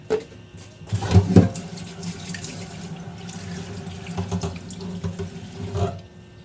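Water runs steadily from a tap into a pot, splashing more heavily at first, then settling into a continuous pour.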